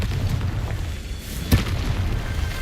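A Confringo blasting curse explodes in Hogwarts Legacy, one sharp boom landing midway over a low rumbling game ambience, with no talking.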